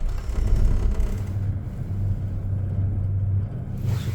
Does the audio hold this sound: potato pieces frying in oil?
no